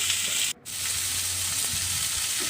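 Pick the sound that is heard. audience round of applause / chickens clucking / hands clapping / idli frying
idli frying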